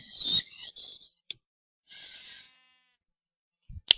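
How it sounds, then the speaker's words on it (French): Sheep in the video game Minecraft, a few short, separate bleats with quiet gaps between them, ending in a sharp click-like blip. "Des moutons. Je vais les tuer,"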